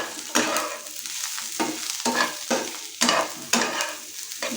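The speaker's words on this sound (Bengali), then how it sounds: "পেঁয়াজ আর এই আলুটা একসঙ্গে আমি একটুখানি ভাজবো।" Onion and potato frying together in hot oil while being stirred: a continuous sizzle broken by repeated scraping strokes of a spatula or spoon at a loose, uneven rhythm, close to the pan, with no voices.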